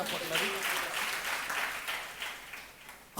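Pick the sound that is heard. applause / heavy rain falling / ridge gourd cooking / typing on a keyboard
applause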